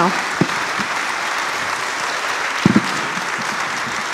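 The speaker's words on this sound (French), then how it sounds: "On peut applaudir nos intervenants." An audience at a neuroscience talk event applauds the speakers, a broad, steady wash of many hands clapping, with a few louder nearby claps and brief murmurs standing out.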